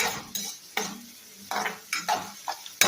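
Spoon scrapes and clinks against a pan as onions for an egg curry are stirred and sautéed, in a handful of short separate strokes over a soft sizzle, close, with no talking.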